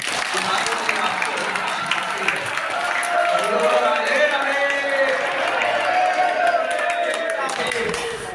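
Crowd of worshippers clapping their hands at a temple in Nandgaon, Uttar Pradesh, a dense continuous patter of many hands mixed with voices and crowd murmur.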